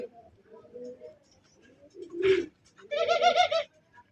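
Magpie pouter pigeons coo in a loft, a few soft, low murmurs followed by a louder rolling coo near the end, close by, alongside a voice speaking.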